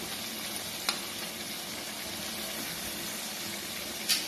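Grated onion goes into hot oil with browned potatoes for chicken biryani, giving a quiet, steady frying sizzle with faint crackles and a couple of small spatters or stirring clicks.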